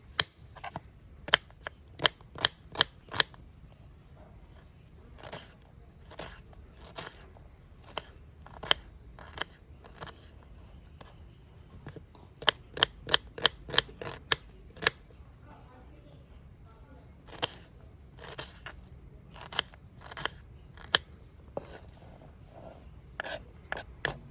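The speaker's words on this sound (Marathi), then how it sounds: "आपण कांदे कापून घेऊ" Quick bursts of crisp knife chops slicing onions on a board, in rapid runs of several strokes separated by pauses, with a quiet room behind.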